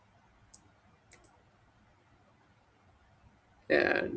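A computer mouse gives a few faint, sharp clicks spaced apart before a voice begins speaking at the end.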